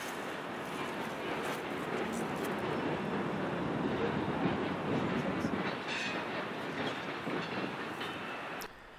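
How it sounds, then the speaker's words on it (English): A Norfolk Southern local freight train passes on a branch line, a steady rumbling roll with faint wheel clatter at a moderate distance that holds, then drops off near the end. "we saw an NS local as it went down the western branch"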